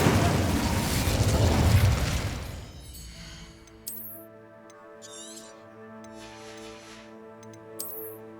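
A fire spell erupts in Hogwarts Legacy, a dense, roaring burst of flame and blast noise for about three seconds, then it gives way to sustained tonal music with a couple of sharp, bright chimes.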